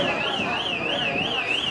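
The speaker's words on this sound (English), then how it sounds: "It got so hot, we just started setting off alarms here at Waterloo Wrestling Coalition." A warbling electronic alarm wails in a steady up-and-down cycle inside a wrestling venue, loud and continuous with crowd noise beneath it.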